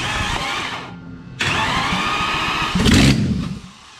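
A Traction fitted with a V12 engine runs steadily, a loud continuous mechanical drone that dips briefly, then comes back and swells with a rougher surge before easing off.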